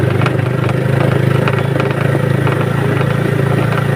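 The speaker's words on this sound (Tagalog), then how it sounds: "Kani lagi may motor." A motorcycle engine runs steadily close by, a continuous mid-pitched idle with a rattly clatter and slight surges, heard alone without talk.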